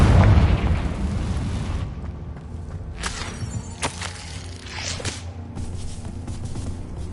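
A Confringo fire-spell explosion in Hogwarts Legacy: a loud booming blast at the start that fades, followed by several sharper bursts and pops at a moderate level.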